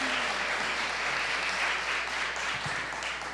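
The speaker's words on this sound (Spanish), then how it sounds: "démosle un aplauso" A church congregation claps together in a steady, even burst of applause, dense and continuous from start to finish.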